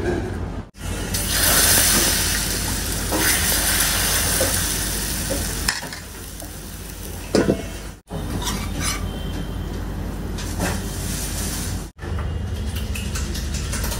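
Liquid batter pan-fried in a hot pan over medium flame, a loud, steady frying sizzle that runs throughout, broken by a few abrupt drops and occasional scraping stirs, no talking.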